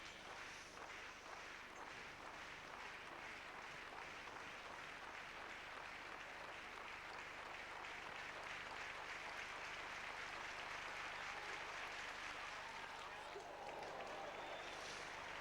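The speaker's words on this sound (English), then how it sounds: "the crowd very, very noisy" Stadium crowd at the 1993 Lausanne Grand Prix athletics meeting before a 400m race, a continuous loud roar of a packed crowd heard from a distance, steady and unbroken throughout with some cheering swells.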